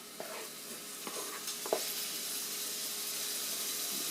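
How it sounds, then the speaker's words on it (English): Stew meat browning in a hot pan, a steady sizzle and frying hiss throughout, with a few clinks and stirring knocks in the first two seconds, close and moderately loud with no talking. "Just put all this stew meat in there and get her browned down."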